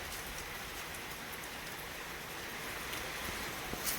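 Steady rain falls continuously with wind in a village, a dense even hiss with a slight swell near the end and no voices.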